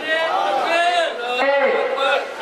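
A large crowd at a Muharram religious gathering chants slogans in unison, loud, sustained voices rising and falling in two drawn-out calls that fill the space.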